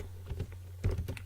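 Quick typing on a computer keyboard, a short run of crisp clicking keystrokes in two small clusters over a low steady hum.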